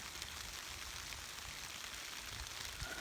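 Steady rain falls as a dense, even hiss on surfaces outdoors, continuous and moderately loud throughout, with no voices.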